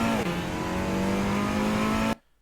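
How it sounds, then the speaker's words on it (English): A Cupra Leon race car in a racing video game, lapping the Vallelunga circuit, holds a loud, high-revving engine drone that climbs briefly, then cuts off abruptly into near silence. "Then we get back on the throttle as early as we can"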